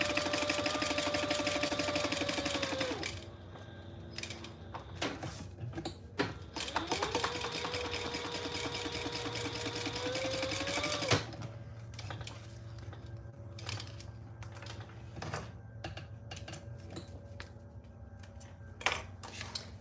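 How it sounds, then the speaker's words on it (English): A sewing machine stitches up the sides and across the top of a fabric wallet, steady loud mechanical whirring in two long runs with a sharp motor whine, then quieter rattling and handling clicks. "I'm going to stitch up the sides and across the top"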